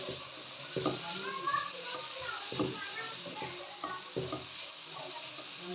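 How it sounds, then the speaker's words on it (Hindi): Vegetables cooking in a pan over a high flame: a steady sizzle runs underneath while a spoon stirs with intermittent scraping knocks, and someone talks over it. "तेज़ आंच के ऊपर 2 मिनट के लिए कुक कर लूँगी, ताकि इसका पानी जो है अच्छे से खुश्क हो जाए और सब्जियाँ थोड़ी सी सॉफ्ट हो जाएं"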